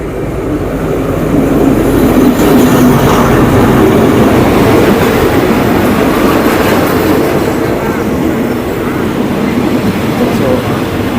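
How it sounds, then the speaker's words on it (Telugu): A seven-coach train on the Death Railway at Kanchanaburi, Thailand, rumbles steadily and loudly throughout, a continuous close rolling roar with faint wheel clatter and some voices mixed in. "ఈ ట్రైన్లోనే మనం వెళ్తున్నాం"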